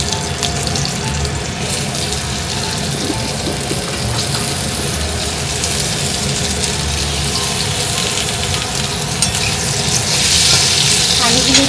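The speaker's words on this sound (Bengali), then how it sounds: "আলুগুলো দিয়ে ভালো করে ভেজে নেবো।" Potatoes fry in hot oil in a kitchen pan with a dense, unbroken sizzle and crackle, loud and close for the whole stretch, swelling slightly toward the end.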